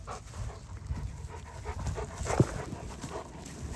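A large 120-pound, nine-month-old Cane Corso pants steadily up close, quick rhythmic breaths at a soft level, with one brief higher whimper partway through.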